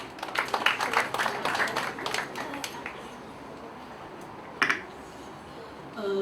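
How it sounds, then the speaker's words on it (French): A short burst of audience applause, a few seconds of scattered clapping that fades out, followed by a lone clap and quiet room noise. "Sous vos applaudissements."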